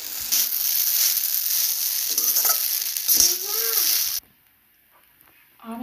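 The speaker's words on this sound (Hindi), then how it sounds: "अब इसमें पिसी हुई मूंगफली ऐड करेंगे, इसे हम अच्छे से चलाएंगे" Ground peanuts being stirred into sabudana khichdi in a pan over low heat, a steady loud scraping sizzle with spoon strokes that stops abruptly, leaving near silence before a brief return.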